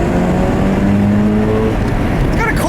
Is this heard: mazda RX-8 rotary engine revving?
yes